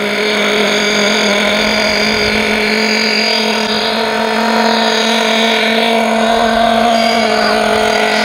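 Alpha Dragon nitro RC car engine during break-in, revving under smooth throttle with a loud, steady high-pitched buzz that rises and eases slightly as the throttle is fed and backed off, heard close and alone.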